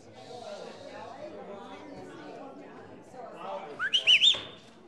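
A few short, bright whistle notes rise and fall near the end, following a stretch of murmuring crowd chatter.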